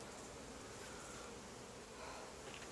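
A steady, dense buzz of honey bees hums throughout, like many bees swarming close by around a hive, with no voices.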